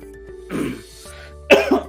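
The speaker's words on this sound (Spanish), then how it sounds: "perdón por la tos" A cough bursts out twice, about a second apart, near and fairly loud, with a quieter throat-clearing noise at the start and a faint background hum.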